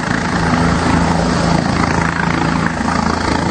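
A helicopter arrives at Toussaint Louverture International Airport in Port-au-Prince, Haiti, its loud, steady rotor thrum and turbine roar filling the scene without a break, close and dominant.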